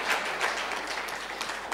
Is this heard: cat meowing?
no